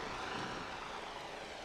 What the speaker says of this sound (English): The Atlantic Care chopper.